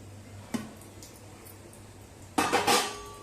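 A lid lifted off a pot of steamed rice papad dough: one light clink, a quiet pause, then a louder clatter of metal on metal, close and alone.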